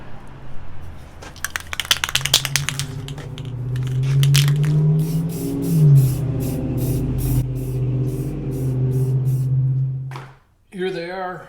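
Rust-Oleum Brilliant Blue spray paint hisses from an aerosol can in several long, steady bursts onto small metal tool holders for a weld table, with someone talking over much of it.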